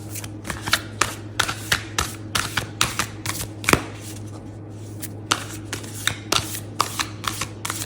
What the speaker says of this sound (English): This is not an easy deck to shuffle. It's big and it's really thick stock.